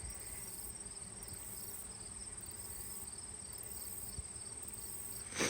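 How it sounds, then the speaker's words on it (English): Honeybees around an open beehive during a fall inspection of the last supers, a steady insect buzz and high chirping drone continuing throughout, with a brief louder rustle at the end. "are you getting bothered at all by any bees?"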